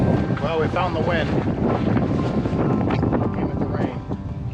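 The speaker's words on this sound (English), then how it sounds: "Hitting rain and all kinds of wind." Wind and rain of an incoming storm at sea aboard a sailboat on a Hawaii to San Francisco passage, loud buffeting wind noise against the microphone over water, with people talking underneath.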